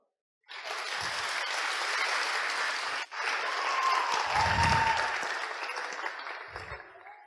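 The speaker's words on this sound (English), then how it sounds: "I like to get a round of applause there" Audience applause breaks out after a juggling trick, a full room clapping loudly and steadily for several seconds with a brief dip midway, swelling again before tapering off.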